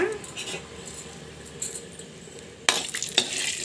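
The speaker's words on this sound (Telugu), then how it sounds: "ఇప్పుడు ఇందులోకి పోపు ఆవాలు జీలకర్ర పచ్చెనగపప్పు మినప్పప్పు ఎండుమిర్చిని వేసుకుందాము" Mustard seeds, cumin, chana dal, urad dal and dried red chillies sizzle in hot oil as a tempering, a soft steady crackle that jumps louder when more goes into the pan.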